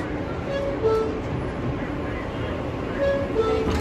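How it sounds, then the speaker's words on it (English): Rumble of an R-160B Q local subway train riding Manhattan-bound toward Ocean Parkway, a steady low rolling drone with faint whining tones, under a recorded station announcement. "This is a Manhattan-bound Q local train."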